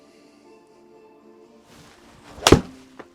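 A golf club strikes a ball on a practice shot: one sharp, loud impact after a quiet stretch, followed by a fainter knock a moment later.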